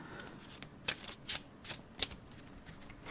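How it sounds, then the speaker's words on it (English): Playing cards are riffled and snapped in a quiet, close shuffle, several crisp bursts spaced about half a second apart over soft background hiss, for a game of Cruel Solitaire. "Let's do one more shuffle"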